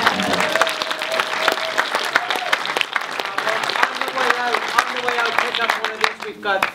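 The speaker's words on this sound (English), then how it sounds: "If you could give them a round of applause." Audience applause at a film Q&A with directors, steady dense clapping throughout with voices and cheers mixed in, thinning out near the end.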